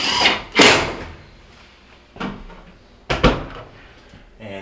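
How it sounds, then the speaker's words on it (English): A Whirlpool dryer door opens with a few solid clunks and latch knocks, spaced apart and close by, with no voices. "Alright, so we'll open up our door."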